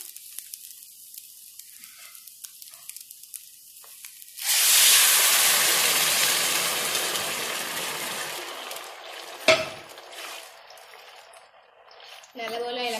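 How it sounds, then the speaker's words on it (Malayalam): Water poured into a pot of rice sitting in hot ghee and the oil left from sautéed onions, for a quail biryani, bursts into a loud, sudden sizzle that slowly fades to a softer simmering hiss, with a clunk partway through. "നമുക്ക് ഇതിലേക്ക് വെള്ളം ചേർക്കാം"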